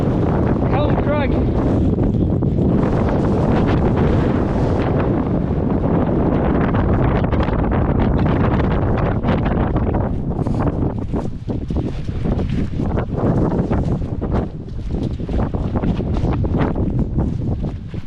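Strong wind buffets the microphone throughout a mountain walk toward Helm Crag in the Lake District, a loud continuous roar and rumble with gusty surges and a person speaking over it.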